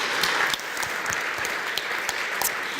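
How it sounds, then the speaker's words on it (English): An audience at a ministerial energy transition panel session applauds the panelists, a dense, steady round of clapping from many hands, loud and close throughout with no talking. "give a warm round of applause for all of our panelists once more"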